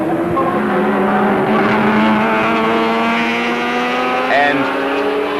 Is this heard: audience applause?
no